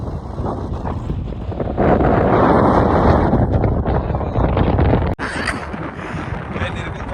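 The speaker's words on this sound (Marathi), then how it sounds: "भरपूर वारा मारतो इकडे" Strong wind roars and buffets the microphone steadily at a rocky seashore, with a brief dropout near the end before the gusting resumes.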